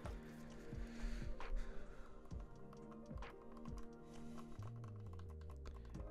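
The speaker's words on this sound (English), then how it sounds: "These are more of a more satisfying but more dull sounding click." Upgraded back shoulder buttons on an Anbernic RG353V handheld console give a series of soft, dull clicks at irregular intervals, each fairly close and quiet beneath steady background music.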